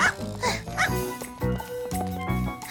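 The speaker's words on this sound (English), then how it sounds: "Silly dog." Several sharp, high cartoon dog barks and yips in quick succession, close by, mixed with background music.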